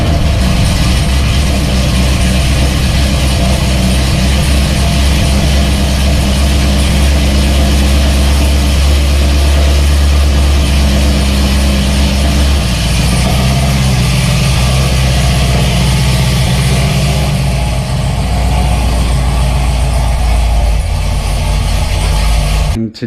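A Corvette engine with a straight-pipe axle-dump exhaust runs after a cold start. The loud, deep rumble stays close and continuous, and its idle shifts slightly partway through.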